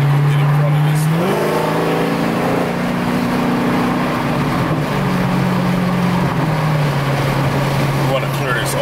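A Dodge Hellcat accelerates hard, its supercharger whine rising and holding steady over a loud, continuous exhaust roar heard from inside the car, with a voice talking faintly underneath.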